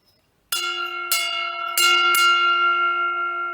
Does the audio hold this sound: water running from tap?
no